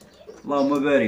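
A brief, low, throaty pigeon coo swells up after a few spoken words, close and fairly loud.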